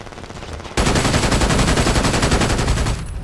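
Rapid automatic gunfire in the video game Brink erupts suddenly and rattles on as a dense, loud burst of shots for over two seconds before easing off.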